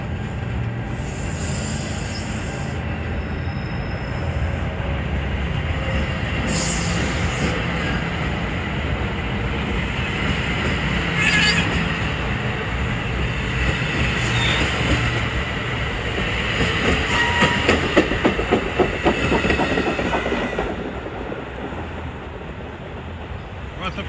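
A commuter train rumbles through Rutherford station on New Jersey's Bergen County Line, a loud, sustained roar with rhythmic wheel clatter over the rails and occasional higher squeals, building toward the end before easing.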